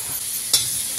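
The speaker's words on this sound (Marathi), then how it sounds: "आता मसाला टाकते" Spice masala is stirred into red amaranth stems frying on a tava, giving a steady soft sizzle with a brief scraping stir near the middle.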